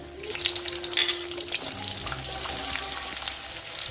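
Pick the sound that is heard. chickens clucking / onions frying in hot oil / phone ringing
onions frying in hot oil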